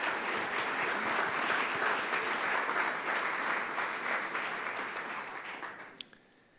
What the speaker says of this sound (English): Let's give them a nice warm applause for their incredible support.